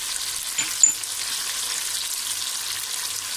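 Turmeric, red chili powder, salt and green chilies fry in hot oil with a soft, steady hiss and one small clink partway through.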